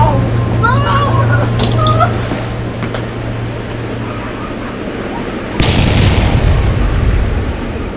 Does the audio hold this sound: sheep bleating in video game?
no